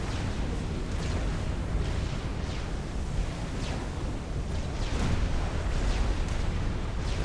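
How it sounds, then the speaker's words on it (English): Summit battleships in Supreme Commander: Forged Alliance firing their heavy guns, a continuous barrage of rumbling cannon blasts and booming impacts layered into a dense, unbroken roar. "Just watch those Summits fire their guns all day."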